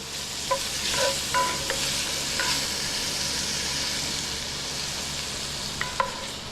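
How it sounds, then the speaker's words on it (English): Smoked pork chops brown in a pot for jambalaya, giving a steady close sizzle with occasional sharp ticks and pops from the rendering fat, no talking. "So we're adding the smoked pork chops first. We're gonna brown it up, render some of that fat off there."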